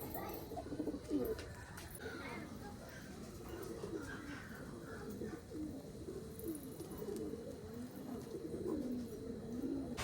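Pet pigeons cooing outdoors, soft repeated throaty coos rising and falling at moderate distance over a steady background hiss, with faint speech now and then.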